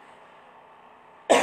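A single abrupt cough bursts out at the very end after a quiet room tone during a Hindi poetry reading, close and loud.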